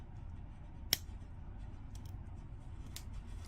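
A single crisp snip of cutters through SilverSilk hollow wire mesh while making earrings with oval agate, one short sharp click near the start over a quiet low hum, then only faint ticks.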